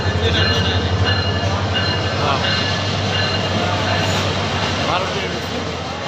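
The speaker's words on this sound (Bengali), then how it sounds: "ট্রেন ঢুকে পড়েছে স্টেশনে" A train pulls into the airport railway station at night with a steady rumble of rolling wheels and rail noise, close and loud throughout, while people talk nearby.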